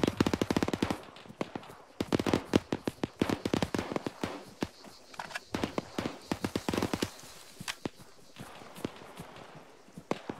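Heavy gunfire in the military shooter ArmA 3: dense bursts of loud, sharp shots in rapid irregular clusters, some automatic strings and some single cracks, with brief lulls between volleys.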